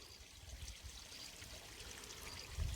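Water from a pipe laid across a mountainside near a hillside market pours in a soft, steady stream, faint and continuous with no voices.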